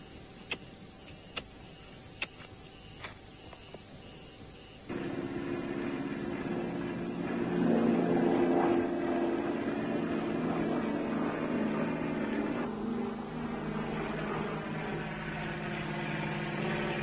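Military aircraft fly overhead, a steady droning engine hum that rises to a loud peak and slowly fades, coming in after a few seconds of faint, sparse ticking.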